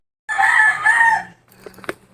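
A rooster crows once, loud and close, a bright drawn-out call, followed by a few softer clucks and a sharp tap.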